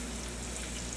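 Samosa filling sautés in a pan with a steady, soft sizzle and light frying crackle, continuous and fairly quiet with no talking.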